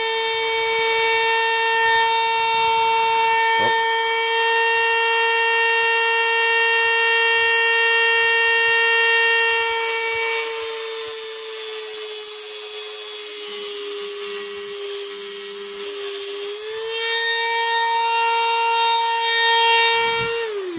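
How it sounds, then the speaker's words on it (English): A Dremel with a cutting wheel whines loudly and steadily as it grinds into a G&P GBB M4 airsoft bolt, the high pitch dipping under load and rising again when the pressure lets off. "All I'm using is a Dremel with a cutting wheel"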